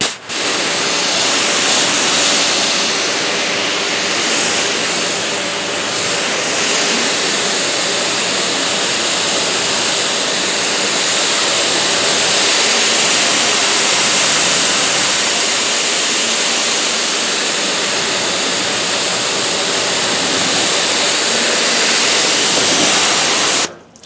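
Water hisses in a loud, continuous spray as it sheets off car paint coated with DPC Armor SiO2 sealant, heard close up without pause.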